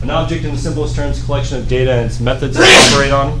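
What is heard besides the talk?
sneeze during a lecture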